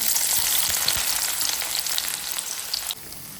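Chopped onion dropped into hot oil for Maharashtrian misal, crackling and sizzling loudly and steadily up close, with a few sharper pops, the hiss easing slightly near the end.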